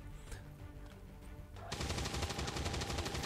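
Rapid automatic gunfire rattles in XCOM 2, a dense, loud burst of shots that starts suddenly after a quieter stretch of game ambience.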